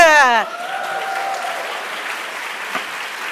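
A cheering voice rings out briefly at the start, then a steady wash of clapping from a lecture audience, applauding a Vietnamese Students Association, continues to the end.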